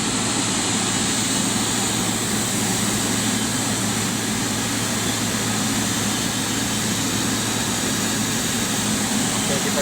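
A Garuda Indonesia airliner, PK-GIJ, taxis at Aceh's BTJ airport, its jet engines giving a loud, steady roar and whine that holds unbroken throughout.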